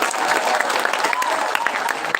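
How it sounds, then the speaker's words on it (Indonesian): An audience claps steadily at a school anniversary event at SMA Negeri 6 Palembang, dense, loud applause with scattered cheers and voices in the crowd. "Tepuk tangannya mana?"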